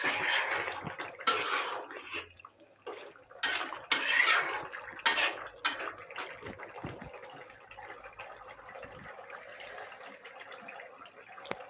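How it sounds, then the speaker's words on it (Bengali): A tilapia fish and papaya curry is stirred in a pot, heard as a burst of close ladle clanks and scrapes against the metal that fade into softer liquid stirring, with no voices. "এখন আমি এটাকে নাড়াচাড়া দিয়ে নামিয়ে ফেলবো।"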